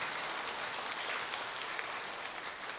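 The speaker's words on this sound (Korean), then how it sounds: "이럴 때는 박수를 한번 쳐야 돼요" A church congregation at a Sunday service applauds, a dense, steady wash of many hands clapping at moderate volume that holds evenly for about three seconds with no voices.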